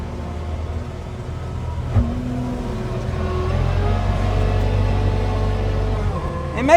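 A skid steer engine drones low and steady while pushing mud for pond building, rising slightly in strength midway with a faint whine, no talk over it.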